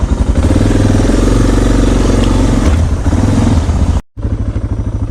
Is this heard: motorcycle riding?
yes